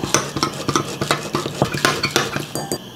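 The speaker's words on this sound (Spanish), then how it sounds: "Le voy a agregar un poquito de leche, más o menos 1 cucharadita de leche, 1/2 cucharadita de sazonador y vamos a batirlo." Eggs with a little milk and seasoning are beaten in a bowl, a steady rhythmic clatter of utensil against dish that repeats quickly and sits close and fairly loud.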